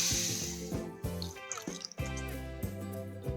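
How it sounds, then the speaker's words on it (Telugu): Water pours and splashes into a pot of sugar in uneven bursts, with gurgling tones rising as it fills; close and fairly quiet, no voices. "ఈక్వల్గా రెండు కప్పుల వాటర్ పోసుకోవాలి"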